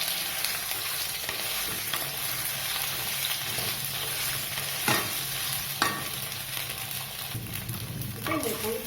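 Steamed aval (flattened rice) kozhukkattai dumplings with vegetables are stirred through oil in a pan, giving a steady close sizzle broken by a few sharp scrapes and clacks of the spoon against the pan.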